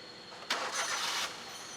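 A car engine cranks and fires up with a sudden burst of noise, running loud for under a second before settling back to a steady idle. The car is being checked for dashboard warning light faults.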